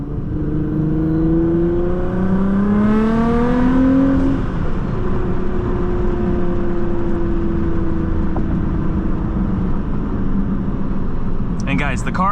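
A Nissan GT-R accelerating hard, engine note climbing through rising pitch in successive gear pulls, loud and close, then settling into a steady cruising roar.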